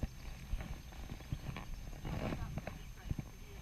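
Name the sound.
horse cantering in arena, hooves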